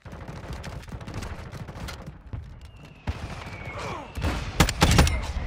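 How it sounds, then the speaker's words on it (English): Mortar strike in the Modern Warfare 2 DMZ video game: a rush of explosive blasts and crackling impacts builds toward the end, with the loudest bursts near the close over steady rumbling game noise. "they called that a mortar strike"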